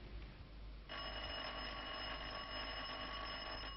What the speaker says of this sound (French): Ça sonne encore. C'est sûrement le téléphone.